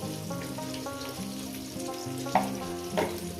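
Potato pieces frying in a pan with salt and turmeric: a dense, close sizzle and crackle with a couple of sharper scrapes as the food is stirred, no voices.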